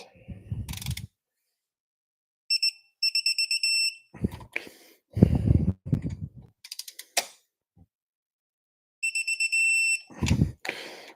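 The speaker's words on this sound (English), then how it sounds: "When you hear the beep, beep, beep, beep, beep, beep, beep, that means you're getting close" Bursts of rapid high electronic beeps repeat in short runs, separated by gaps and other clattering mechanical noises, while a water neck is installed on a Toyota 1MZ-FE engine.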